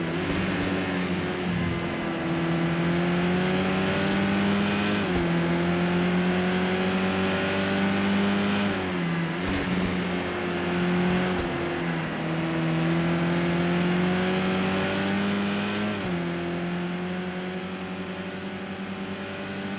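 Touring cars race at Brands Hatch in Project Cars 2, a steady engine drone with rising revs and abrupt drops at each gear shift, several shifts repeating in a continuous loud run with no talk.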